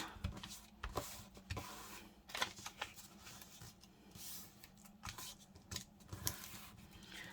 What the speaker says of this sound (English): I'm going to have to cut some of this off